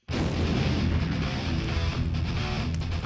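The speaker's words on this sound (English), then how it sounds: "it was then that I heard the explosion" An explosion heard from a car stopped at a red light on a route to school: a sudden loud onset followed by a sustained, dense rumbling roar that holds steady for about three seconds.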